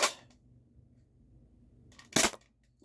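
A Nerf Mandalorian blaster fires a dart, one sharp close snap after a short opening burst, with quiet room tone between.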